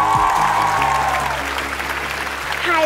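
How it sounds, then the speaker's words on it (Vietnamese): Audience applause for a child contestant on a Vietnamese kids' talent TV show, steady clapping from a studio crowd over a background music bed, with a host's voice briefly audible. "Một tràng vỗ tay cho con tôi."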